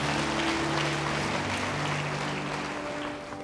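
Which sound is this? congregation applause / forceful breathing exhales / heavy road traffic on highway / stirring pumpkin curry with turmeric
congregation applause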